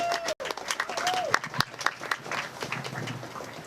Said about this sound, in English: give yourselves a big applause